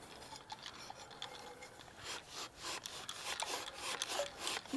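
Steel wool rubbed over a metal GrillBlazer grill gun, a faint scratchy rasping in repeated back-and-forth strokes, close by and heard alone.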